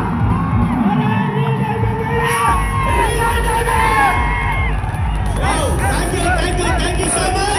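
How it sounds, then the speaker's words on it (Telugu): A seminar audience cheers, whoops and claps loudly for a guest speaker on stage, a dense, sustained roar of crowd noise with shouts and voices throughout. "ఒకసారి గట్టి క్లాప్స్ అవ్వాలి బాసా సార్కు."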